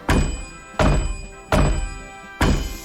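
A radiator in a hallway of the Runaway: A Twist of Fate adventure game breaks with four loud, evenly spaced metallic thunks, each ringing briefly before fading, with no voices.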